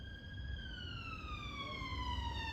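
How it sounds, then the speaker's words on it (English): Ambulance siren sweeping in a steady falling wail as it passes, clear over low rumbling traffic, with no talk. "Ambulance."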